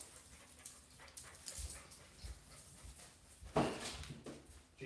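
A small dog whimpers and pants softly in a home kitchen, faint irregular whines and breaths over a quiet background with one sharper yelp partway through.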